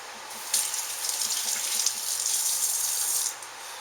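Carrots and celery rinsed under a running kitchen tap make a steady gush of water that swells briefly as the vegetables pass through the stream, then softens near the end, with no talking.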